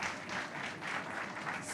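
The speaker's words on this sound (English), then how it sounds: "Can we get a round of applause?" A conference audience gives a round of applause, a soft, continuous wash of clapping that rises and falls slightly and sounds faint and far off.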